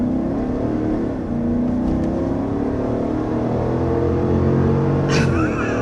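A 2023 GMC Yukon Denali Ultimate XL accelerating hard up a steep hill, heard from inside the cabin as a steady low engine drone and road rumble that builds gradually, with no talking.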